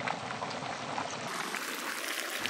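Crab frying in a wide village pan while being stirred and turned for Chettinad crab fry, giving a steady, soft bubbling sizzle with no pauses.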